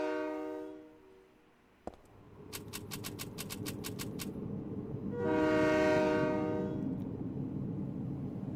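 A train in the Silent Hill video game: a loud harmonic horn blast, a sudden sharp crack, a quick series of rhythmic clacks, then a swelling horn and a steady rumbling roar as the train passes close by.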